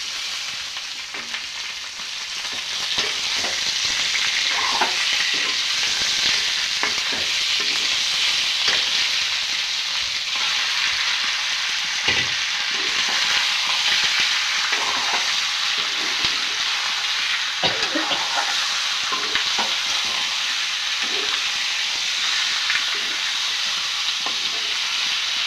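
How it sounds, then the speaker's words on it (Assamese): Onions frying in a pan before pork is added, a steady loud sizzle running throughout with frequent scraping and clinking stirs, no voices. "অলপ সময় পিঁয়াজখিনি ৰঙচুৱা হোৱালৈকে ভাজিম"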